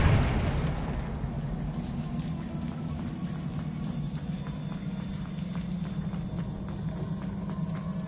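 A Bombarda or Confringo spell explosion in Hogwarts Legacy: one loud, close burst at the start that fades into a low, rumbling hum with faint crackles.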